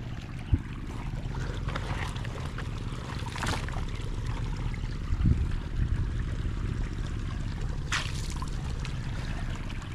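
Water pumped for field irrigation gushes steadily and loudly, a continuous broad rush with a low rumble beneath and a few faint knocks, and no voices.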